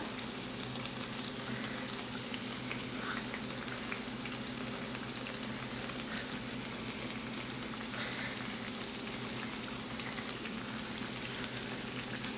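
Thanneerappam, a Kerala rice flour snack, frying in hot oil, a dense steady bubbling crackle that runs evenly throughout with no talking.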